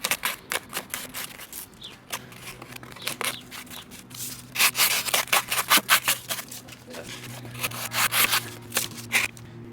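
A Leatherman tool blade of MagnaCut steel slices repeatedly through material in a cutting-test machine, producing a rhythmic series of short, close scraping strokes over a low mechanical hum.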